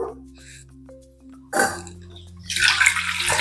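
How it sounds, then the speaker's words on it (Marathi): Soaking water is poured off rice that sat in water overnight for idli batter: a low steady hum first, then a brief splash, and a steady gush of pouring water in the final second. "पाणी काढून घेते तांदूळातलं सर्व"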